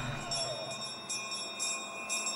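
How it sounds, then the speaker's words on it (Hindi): Faint bell strikes ring out repeatedly at a steady pace, with sustained metallic tones lingering over a quiet, humming background. "घंटी की आवाज सुनकर निशाना लगाइए अंकल।"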